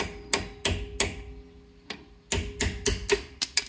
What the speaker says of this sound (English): we're gonna have to use a hammer and punch to get that out